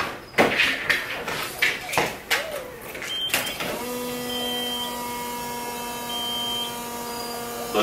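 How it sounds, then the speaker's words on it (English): A Nissan GTR that won't start has its fuel pump priming: a few clicks and thuds, then a steady electric whine with high tonal hum holds for several seconds, close and alone. "Let the fuel pump go"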